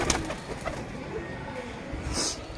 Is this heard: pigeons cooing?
yes